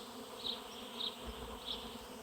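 A honey bee swarm in Minnesota fills the air with a dense, steady buzzing of countless bees, with a few slightly louder swells as bees pass close by.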